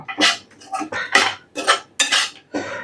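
Lemon rice being stirred in a pan, a spoon scraping and clinking against the metal in six distinct strokes, loud and close, with no talking.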